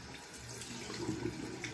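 Tap water runs softly at a sink during a face rinse, a faint, steady trickle that swells briefly to a louder splash at the very end.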